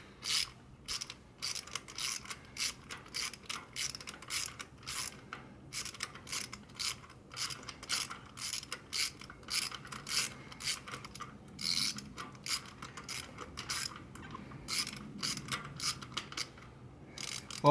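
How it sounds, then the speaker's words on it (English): A hand ratchet works long spark plugs free from a Jeep Wrangler 3.6L engine, giving quiet, rapid clicking bursts in an uneven rhythm, close and faint, with no talking. "it's going to take you a few minutes to ratchet them free."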